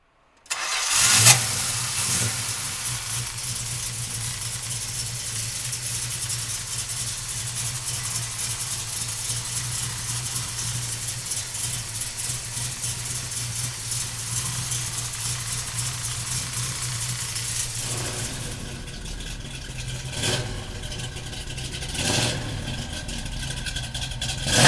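A 1972 Plymouth Barracuda engine cranks and catches with a loud burst, then settles into a steady, deep idle that holds for about twenty seconds before a few blips near the end.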